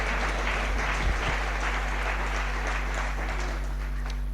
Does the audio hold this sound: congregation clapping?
yes